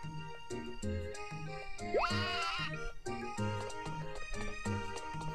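A cartoonish sheep bleat rises over bouncy music in Harvest Moon: A New Beginning, with a short boing-like sweep partway through.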